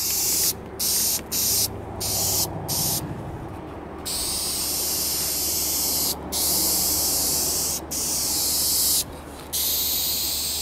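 An aerosol spray paint can hisses steadily and loudly while coating a truck, in long continuous bursts broken by brief pauses, with no voices.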